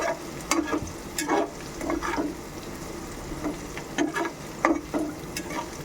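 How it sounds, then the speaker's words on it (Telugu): Green chillies fry in a pan for a chicken dish, with a steady sizzle and bursts of stirring and scraping that come in an irregular rhythm, close and moderately loud. "పచ్చిమిర్చి కూడా దోరగా వేపాలి"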